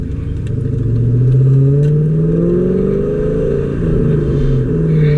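A 1999–2004 SN95 Ford Mustang GT's V8 drones loudly from inside the cabin, the engine note rising as it revs up, dipping briefly at a gear shift, then pulling again, steady and close throughout.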